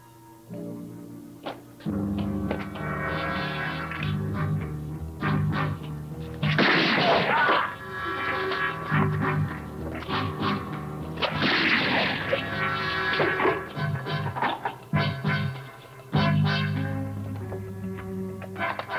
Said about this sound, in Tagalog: Mami, anong putukan yun?